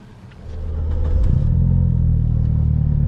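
Mitsubishi Lancer Evo 5 turbo engine revving up from a low idle into a loud, steady, sustained rumble that holds at high volume, heard close up.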